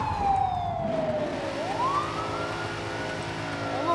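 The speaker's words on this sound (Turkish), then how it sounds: "Siren sesi geliyor." A police siren wails with rising and falling tones over steady car engine and road noise, loud and fairly close, no voices.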